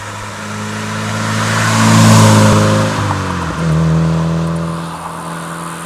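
A Mazda NC Miata engine drones and revs through a loud RoadsterSport Race Single exhaust muffler, swelling to a peak, dipping briefly, then settling into a steady deep rumble.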